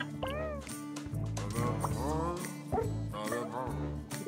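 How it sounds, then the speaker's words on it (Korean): A cat meows several times in the video game Cranked Up Demo, short rising-and-falling calls over steady in-game background tones, with no talking. "야옹 소리가 나네."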